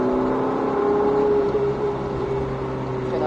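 Ferrari 488 GTB engine pulling hard under acceleration, a steady loud whirring drone with a rising tonal note that holds throughout, heard from inside the car.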